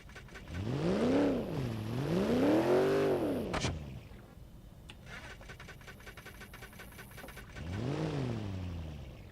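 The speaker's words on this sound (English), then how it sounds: "She doesn't hold an idle." Damaged Civetta Bolide engine in BeamNG.drive failing to hold idle, its revs rising and sagging in slow wavering surges, then cutting out into ticking and rattling before catching again, moderately loud.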